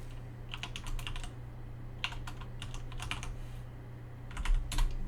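Quiet clusters of button taps on a calculator keypad as numbers are entered, arriving in short irregular bursts separated by pauses over a low steady hum, with no voices.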